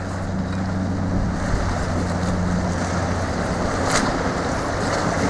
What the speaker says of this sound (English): Lots of activity on this water and all these boats.